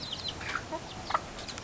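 A mother hen clucks softly, a few short, faint calls over steady background hiss.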